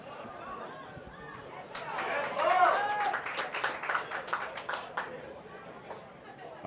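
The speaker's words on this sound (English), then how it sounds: "Affirming cheers from the Golden Bears crowd" A college soccer crowd at a Golden Bears men's match cheers and claps after a strong header, a swell of applause and chatter rising midway then easing, heard at a distance.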